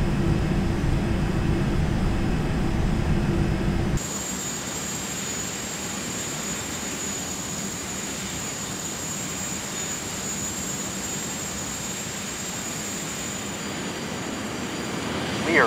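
Steady, loud jet engine drone of a Learjet in flight in Microsoft Flight Simulator X, a constant roar with a thin high whine, heavier and bassier for the first few seconds before settling into an even cabin hum.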